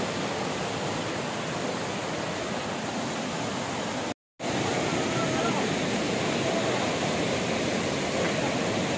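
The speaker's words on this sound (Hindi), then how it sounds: "यहाँ पर वाटरफॉल ही वाटरफॉल जैसे पानी आ रहा है" Rushing waterfall roars as a loud, broadband wash of falling water, close and continuous, with a momentary cut partway through.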